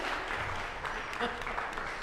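Audience applause after a chamber music quartet's performance at a master class, steady and fairly faint, a continuous patter of clapping across the whole stretch with no voices over it.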